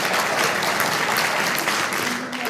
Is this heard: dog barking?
no